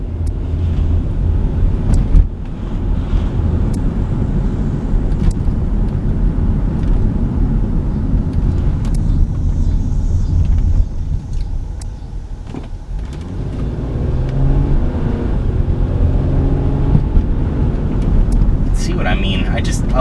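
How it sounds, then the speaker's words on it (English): Steady cabin drone of a 2002 Subaru Outback L.L. Bean Edition with its 3.0-litre H6 engine on the move, low engine hum blended with continuous road and wind rush, loud and constant with a brief dip midway. "I love the way this engine sounds and just the way the power is delivered with it."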